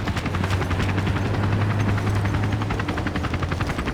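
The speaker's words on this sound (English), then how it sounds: "Enemy chopper." Enemy helicopter in Battlefield 2 Special Forces on a ghost town map, rotor thumping loudly and steadily throughout with a continuous low drone, close and dominant.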